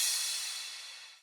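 A synthesized crash cymbal in a trance production, a single bright noisy hit decaying quickly, fairly faint and alone.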